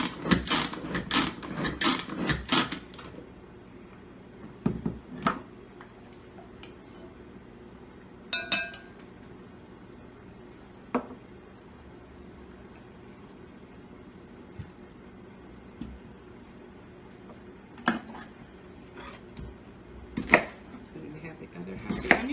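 Onion chopped in a Pampered Chef food chopper, heard as a quick run of sharp plastic clacks with blade thuds, then single presses spaced out over the rest of the stretch, close and fairly loud.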